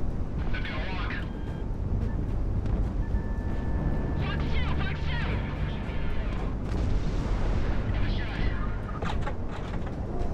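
Missiles launch and burst in the jet combat game Project Wingman, a dense run of booming blasts and whooshes stacked over continuous engine roar and game noise, loud and sustained.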